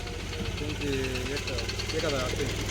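A tractor engine idles with a steady knocking chug at the Shirsgaon onion market, running continuously close by beneath people talking.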